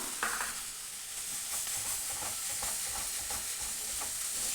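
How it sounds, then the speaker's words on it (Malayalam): Onions are sautéed with salt in a pan, giving a steady, hissing sizzle with faint scrapes of stirring. The sound is low and constant, heard from close by, with no talking. "കുറച്ച് ഉപ്പിട്ട് കൊടുത്തിട്ട് നന്നായി വഴറ്റിയെടുക്കാം"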